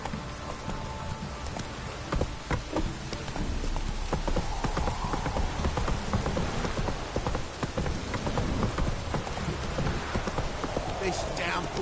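Hooves clop rapidly in a steady gallop while heavy rain pours down in the video game The Witcher 3, the rhythm loud and continuous over the hiss of the downpour.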